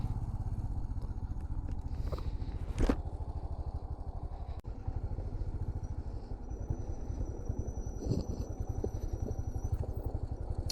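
Two motorcycles carrying three riders drone steadily on a rough, waterlogged mountain road between Padum and Kargil in Ladakh, a continuous close engine hum with occasional clattering bumps.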